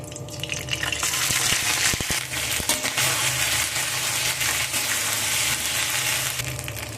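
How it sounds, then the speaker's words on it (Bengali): Ginger and green chili paste sizzles and spatters in hot oil with whole spices for a vegetarian banana-flower curry, a steady loud frying hiss broken by scraping stirs and a few sharp crackling pops. "এবার এর মধ্যে দিয়ে দেবো আমি সেই আদা কাঁচা লঙ্কা বাটা"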